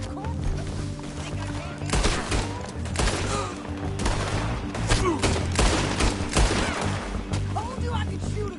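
Sustained gunfire in a Red Dead Redemption 2 shootout, with rapid overlapping shots, booms and crashes throughout, while voices talk over the din.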